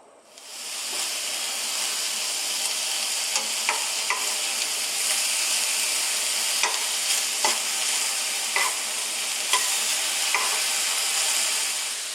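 Strips of bacon fry low and slow in a pan, giving a steady close sizzle and hiss with occasional small pops and crackles from the fat throughout.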